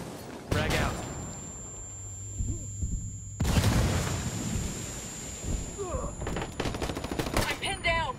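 A video game firefight at a gas station: bursts of gunfire and loud blasts crack over a rumbling battle backdrop, with shouted voices between the shots.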